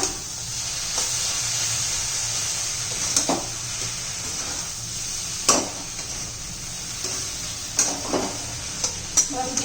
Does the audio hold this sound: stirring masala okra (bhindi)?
yes